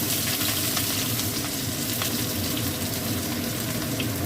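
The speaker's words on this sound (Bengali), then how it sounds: "দিয়ে এই পেঁয়াজ কুচোটা দিয়ে দেবো।" Chopped onion sizzles in oil tempered with cumin, bay leaf and dried chilli for a soybean recipe, with a dense, loud, steady frying hiss close up and no talking.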